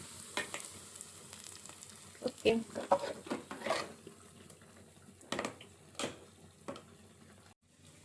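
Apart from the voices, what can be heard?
hot tempering poured into greens sambar, sizzling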